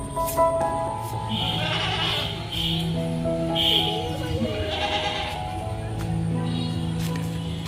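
A Qurbani sacrificial goat bleats repeatedly on the eve of Eid, wavering cries up close over steady household background noise.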